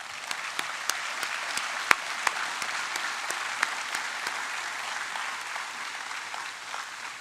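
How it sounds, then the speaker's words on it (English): Applause from an audience at a university facility grand opening ceremony, steady distant clapping with a few sharp individual claps standing out near the front, continuing evenly without speech. "let's give you a round of applause"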